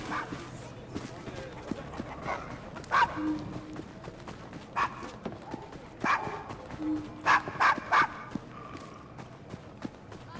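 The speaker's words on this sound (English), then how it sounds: "He's a good doggy." A dog barks in the street ambience of Victorian London in Assassin's Creed Syndicate, sharp scattered barks that recur over the scene, with horse hooves clip-clopping and people talking.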